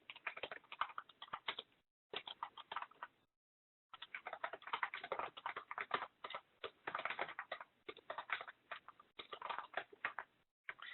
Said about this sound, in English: then I'm going to just type in the information that I want here